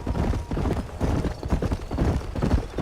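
Horse hooves clip-clop in a quick, even rhythm during the opening ride of Red Dead Redemption, loud and continuous throughout.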